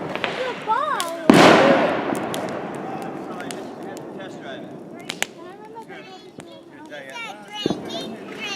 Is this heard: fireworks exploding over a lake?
yes